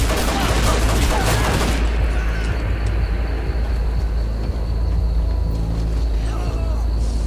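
Gunfire in the shooter game Hatred: a dense, loud burst of rapid shots for the first two seconds, then scattered lighter shots and sharp cracks over a rumbling background.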